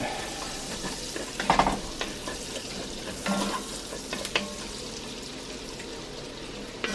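Fresh garlic cooking in a cast iron pot for loaded potato chowder, a soft steady sizzle with occasional stirring scrapes and clatters, fairly quiet throughout.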